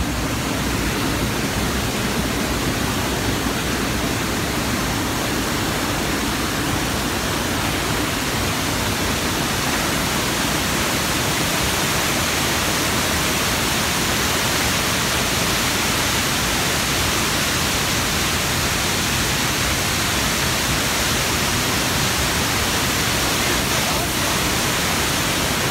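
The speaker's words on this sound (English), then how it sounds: "Recommend you guys coming out and check this waterfall." Lower Falls in Mount St. Helens National Park pours in a steady, loud, unbroken roar of broadband rushing water that fills the whole scene without pause.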